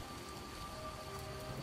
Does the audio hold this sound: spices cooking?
no